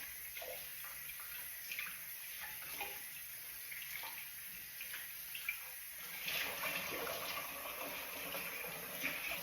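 Tap water runs steadily into a basin while handmade fabric is rinsed in cold water, a continuous close splashing hiss that swells louder over the last few seconds.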